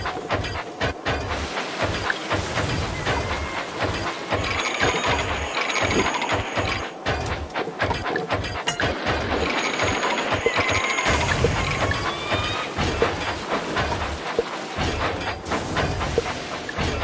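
A toy-like train engine runs along its track in the Thomas & Friends Minis game, a steady chugging rhythm with hissing steam and clattering, continuous and fairly loud, with no talking.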